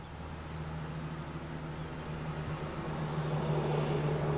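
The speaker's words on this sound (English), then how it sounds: "I know you guys can hear the cars going by" Traffic noise drifting in through an open window: a steady low rumble and hiss of passing cars, growing slightly louder toward the end, distant and faint with no talking.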